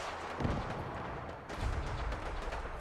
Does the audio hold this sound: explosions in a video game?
yes